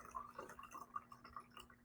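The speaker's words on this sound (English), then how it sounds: "we're going to take just some ordinary water, and we're going to fill up this until" Ordinary water trickles and drips into a homemade balance-scale container, a quiet, uneven splashing that goes on for a couple of seconds.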